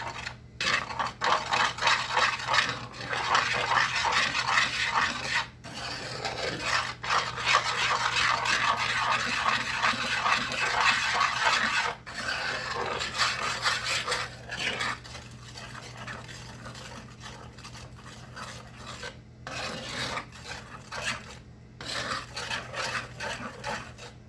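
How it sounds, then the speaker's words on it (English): Chocolate cake batter with vanilla is stirred by hand in a skillet, a steady close scraping and rubbing of utensil against pan that runs nearly continuously with brief pauses, no voices. "Then we're just going to mix this up right here in this pan"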